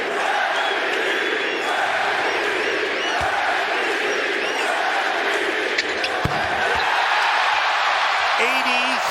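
A packed NBA basketball arena crowd roars and cheers in a continuous, loud wash of voices, with a commentator's speech running over it.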